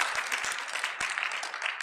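Audience applause at a wastewater industry conference talk, a dense steady wash of clapping from a crowd, moderately loud and continuous with no speech on top.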